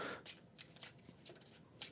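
A deck of playing cards for a board game is shuffled close by, with quiet bursts of riffling and shuffling in an uneven rhythm.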